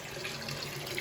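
Gravity-fed water running slowly from a long garden hose, a soft, steady, faint hiss of flow with no voices over it.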